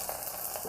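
Chopped small tomatoes sauté in a clay pot, giving a soft, steady sizzle with faint stirring scrapes close by and no talking.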